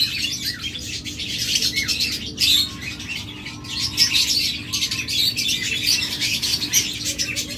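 Many small birds, including lovebirds and budgerigars, chirp and tweet continuously in a busy chorus, with occasional wing flutters and squawks over a low background hum.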